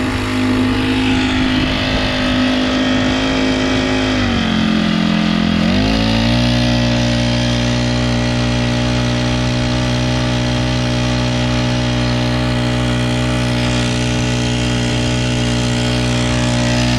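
A Honda 35cc small engine fitted to a Hobie pedal-drive kayak runs close and loud, dipping briefly in pitch before settling into a steady high buzzing drone that continues without talk.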